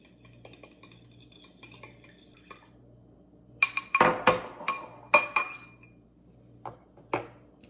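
Metal utensils clink and scrape against a bowl while chicken is mixed with salt and pepper, a quiet scattered run of knocks that turns busier and louder midway, with no talking.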